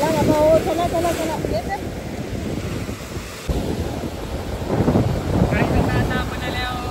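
Rough sea waves wash and roar at Harihareshwar beach under strong gusting wind buffeting the microphone. A person's voice comes through briefly over the surf.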